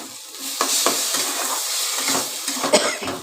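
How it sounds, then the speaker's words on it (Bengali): Tomato paste being stirred and fried dry in a pan, a steady sizzle with scraping spoon strokes against the metal and a few sharper clinks, close and continuous with no talking. "সমানে নাড়তে হবে নাড়তে নাড়তে একদম শুকিয়ে ফেলতে হবে"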